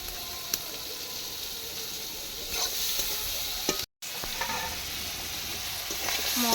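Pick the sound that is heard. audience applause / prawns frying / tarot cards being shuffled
prawns frying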